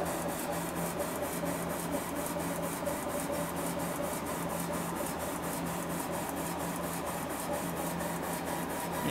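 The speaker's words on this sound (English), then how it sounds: "Back to our letter engraving. Almost complete with our second line." A Laserpro 50 watt CO2 laser engraving machine engraves letters, giving a steady mechanical whir with a fast regular ticking pulse that repeats evenly throughout, close and unbroken.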